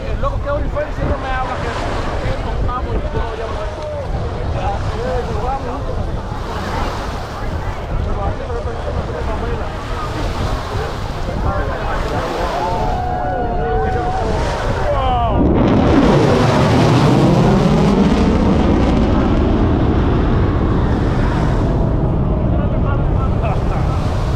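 A B-1 bomber jet makes a high-speed pass trailing vapor, a loud sustained roar with heavy wind buffeting that swells and sweeps downward in pitch as it passes, with people talking over it.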